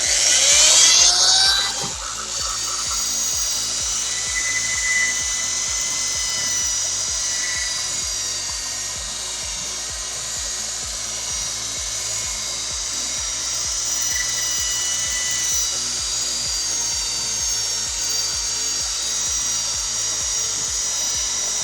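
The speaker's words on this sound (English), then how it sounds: "And you're wet sanding, so keep it wet." A power sander wet sands a BMW 328i E90 fog lamp lens, producing a steady close whir with a rhythmic low rumble and a brief louder burst at the start, running without speech.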